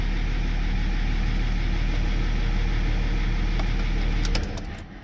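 A BMW 530d E39 diesel engine idles steadily after a cold start, a dense low rumble that holds for about four seconds before dropping off quickly.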